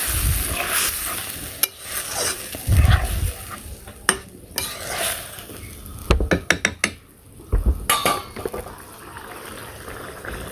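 Taki fish go into a hot pan of cooking greens in a village kitchen, bringing sizzling, stirring and the clatter of utensils against the pan in irregular bursts.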